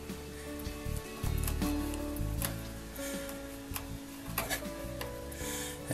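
A one-man crosscut saw works across wood end grain in a workshop, its teeth ticking in a steady uneven rhythm over a constant background hum.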